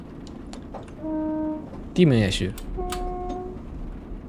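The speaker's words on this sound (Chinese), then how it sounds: "这喇叭竟然一次就这么长" Two long, steady horn blasts from a Class 221 train in Train Simulator Classic 2024 on the North Wales Coast line, fairly loud over a low running rumble, with a brief spoken remark between them.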